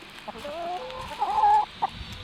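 Backyard hens cluck and warble in drawn-out, rising tones, a few short clucks followed by a longer nasal call, close by and fairly clear.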